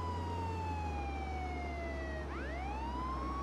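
In a video game, a police car siren wails in long falling sweeps, then jumps back up into a rising tone. A low engine drone sits steadily underneath, and no one speaks.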